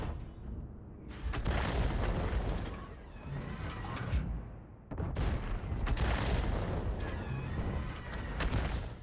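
Tank cannon fire in a World of Tanks-style online battle, heavy booming shots and rumbling blasts in a couple of dense bursts separated by a brief lull, loud and close, with no talking.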